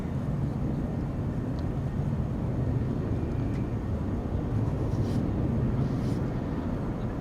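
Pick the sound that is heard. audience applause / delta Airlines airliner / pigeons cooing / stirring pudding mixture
delta Airlines airliner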